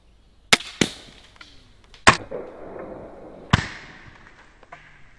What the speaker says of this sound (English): We'll hit the sodas and I'll go and collect them afterwards.